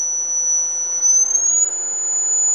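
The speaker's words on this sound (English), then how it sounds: "That's 6 kilohertz." A small speaker plays a steady 6 kHz test tone, a continuous thin high-pitched whine that rises slightly partway through and holds at an even, fairly loud level with no voices.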